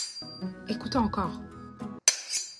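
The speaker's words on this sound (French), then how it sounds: "Une épée! Plutôt un combat d'épée." A sword fight clash: one sharp, bright metallic clang rings out near the end, following a stretch of voice-like tonal sound.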